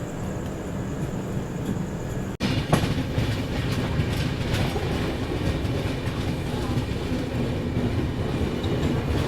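The Kalinga Utkal Express pulls out of a railway station at night, a continuous loud rumble with rhythmic clickety-clack of wheels on rails and a brief jolt early on.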